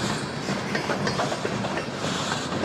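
A long freight train rolls past a rail yard close by, a steady loud rumble of wheels with rhythmic clickety-clack over the rails and no pauses.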